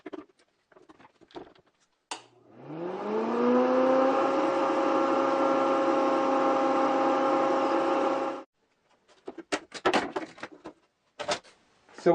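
A forward-facing impeller fan spins up to 2,000 RPM and holds a loud, steady whirring hum with a rising tone at startup, then cuts off sharply, leaving bumps and clatter before and after.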